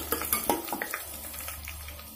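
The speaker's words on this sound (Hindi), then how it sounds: "चला लेंगे इसको।" Onions and cumin are stirred in a frying pan with a soft sizzle, a few light scraping clicks of the spoon against the pan at first, then a quieter steady frying hiss.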